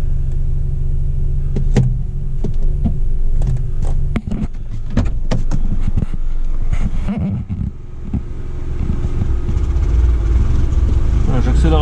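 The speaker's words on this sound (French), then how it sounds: "j'accélère à fond" A car engine with a cold-start fault runs with a steady low rumble, stumbling slightly, then is pushed to full throttle as the revs climb and hold toward the end; a voice speaks faintly at times.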